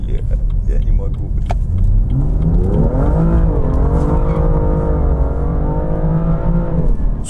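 A BMW M2 engine revs up and pulls away, its rising pitch climbing and holding steady as it accelerates hard, close and loud.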